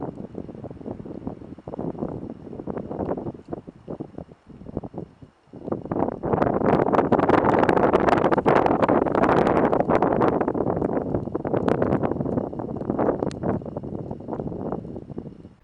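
Wind gusting against the microphone during a winter walk through snow at about minus five, a loud roaring rumble that swells and stays strong after a brief lull, with crunching steps underneath and no talk.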